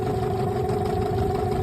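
Outboard engine of a small fishing boat idling on Lake Huron during spring walleye trolling, a steady close hum with a constant tone and a low, even rumble.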